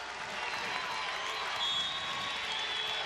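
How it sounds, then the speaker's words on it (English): A college basketball crowd at a Texas State versus Arkansas State game cheers and applauds in a loud, sustained roar that swells slightly partway through, with no clear speech on top. "The crowd really into it now."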